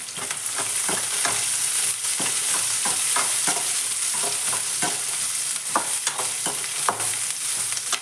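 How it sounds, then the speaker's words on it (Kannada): Onion sizzling as it fries with cumin and mustard seeds in a pan, a steady loud crackle with repeated sharp scrapes and clinks of stirring, no talking. "ಜೀರಿಗೆ ಸಾಸಿವೆ ಇಕ್ಕೀನಿ ಈಗ ಚೆನ್ನಾಗಿ ಫ್ರೈ ಹಾಕ್ತೀನಿ"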